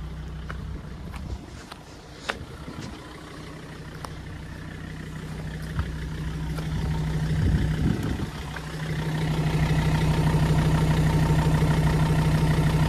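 Jeep Grand Cherokee 2.7 diesel with a straight-pipe exhaust idles steadily, a close, low, even thrum that grows somewhat louder and fuller toward the end, with no talking.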